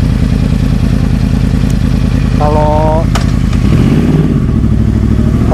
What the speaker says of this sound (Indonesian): naik motor 250 cc itu pas lagi muter-muter mau belok